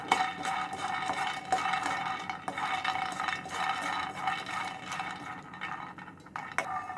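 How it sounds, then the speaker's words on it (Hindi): Peanuts roasting in a pan are stirred with a utensil, producing a continuous dry rattling and scraping with sharp clinks of metal on the pan at irregular intervals, close and with no talk. "सबसे पहले हमने पैन रखा है, इसमें हम हमारे पीनट जो है उसे हम अच्छे से रोस्ट कर लेंगे।"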